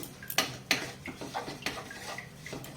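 Mixing coconut naru ingredients with a pinch of salt in a bowl, heard as a few sharp clinks of a spoon against the bowl amid soft scraping and stirring, close and fairly quiet.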